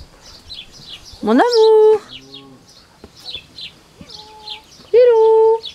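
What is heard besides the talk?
pet bird singing in its cage outdoors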